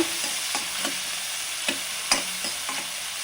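Onions fry in oil for paneer tikka masala, with a low steady sizzle and a regular series of spatula scrapes and taps on the pan every half second or so, close by and with no voices.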